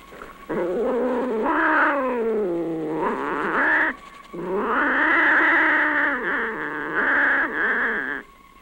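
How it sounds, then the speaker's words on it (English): A cat in a 1963 horror film gives two long, loud, drawn-out yowling meows close by, each wavering in pitch, with a short pause between them. "Does she have all the instincts of a cat?"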